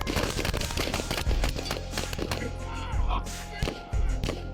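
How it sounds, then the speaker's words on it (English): Nine police officers open fire on a man, producing a rapid, dense burst of many loud gunshots that cracks on continuously with little pause. "A total of 9 officers opened fire on Landon."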